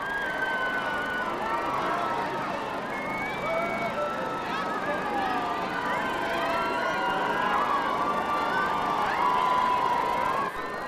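A large crowd waits outside Clarence House in London on the morning of a royal wedding. They cheer and shout without a break, with a layer of babble and high whistles that grows slightly louder toward the end.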